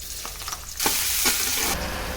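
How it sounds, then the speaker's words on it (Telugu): Onions dropped into hot oil for jeera rice burst into a loud, steady sizzle with stirring scrapes, the frying hiss filling the kitchen for over a second. "నెక్స్ట్ ఉల్లిపాయలు వేస్తున్నానండి."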